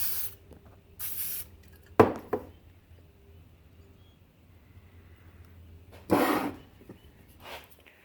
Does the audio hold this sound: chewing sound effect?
no